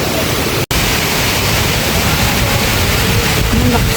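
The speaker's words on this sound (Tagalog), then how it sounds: "Ang lakas po. Ang lakas ng hangin." Strong typhoon wind and heavy rain lash a rural yard with banana trees, a steady, loud, dense roar of rushing air and downpour that continues almost unbroken, with one very short dropout near the start.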